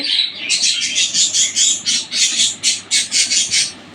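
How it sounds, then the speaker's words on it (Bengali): Pet birds on a rooftop garden give rapid bursts of shrill squawking chirps in a rhythmic series, close and loud, with no talking. "আমার পাখির শব্দে আমি কোনো কাজ করতে পারি না কিচির মিচির সারাক্ষণই করতে থাকে"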